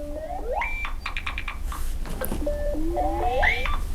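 A Nothing Phone 2 ringtone plays alone, nearby and clear: a quirky electronic melody of rising warbled tones, a quick string of short bright blips, then more sliding chirpy notes, with a steady low hum underneath.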